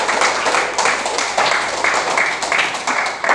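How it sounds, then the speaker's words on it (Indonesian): A class of primary school science students applauds after a group presentation, a dense and steady burst of many hands clapping close by that lasts the whole stretch. "kita berikan aplaus dulu"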